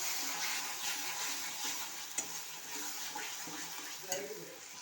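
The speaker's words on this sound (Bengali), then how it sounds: "এই যে দেখো এইখানে মশলা কষাচ্ছি" Spices fry and are stirred in a pan for a cauliflower and potato curry, giving a dense, even hiss with a couple of faint scrapes from the spoon, fairly quiet and steady.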